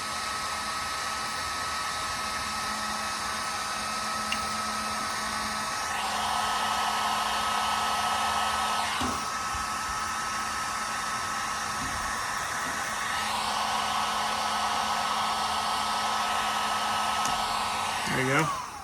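A heat gun or hair dryer blows hot air onto van paint during a roof rack install, a continuous close whirring hiss that rises and falls in intensity as it is moved, alone without speech.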